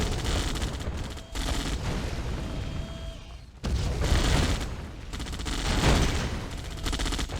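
Heavy booming cannon shots and dense battle noise in the video game Command & Conquer: Yuri's Revenge, loud and continuous, with a brief drop in the middle before the firing surges again.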